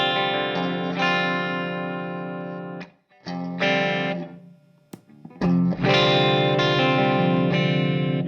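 Distorted electric guitar chords played through a Jackson Ampworks Atlantic 4.0 amp on its thin setting, a thin, trebly tone, strummed in bursts with brief pauses between phrases.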